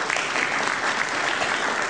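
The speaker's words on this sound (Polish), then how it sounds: "za to proponuję w tym momencie brawa szczególne dla zespołu" A hall full of guests at a football awards gala in Biała Podlaska applauds the team, a dense and steady wash of clapping from many hands with no break.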